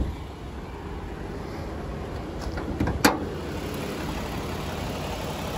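A 2019 Toyota Kluger GX engine idles with a smooth, even hum at steady level, interrupted near the middle by a short clunk or click.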